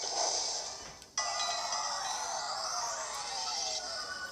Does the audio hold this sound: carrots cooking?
no